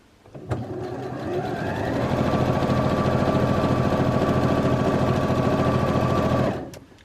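A sewing machine stitches along the quilting line of a self-binding blanket, starting up with a click and then running at a fast, even rhythmic whir that stops near the end, loud and close, with no talking.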